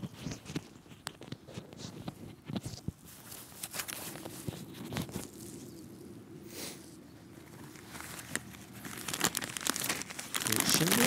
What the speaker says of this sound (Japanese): これがなんか上昇気流で煙突効果で燃えてってる音です。